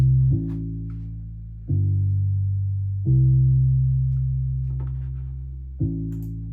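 Four sustained, deep Korg M1 synth bass notes, each starting with a soft attack and slowly fading, playing alone with no other instruments or voices.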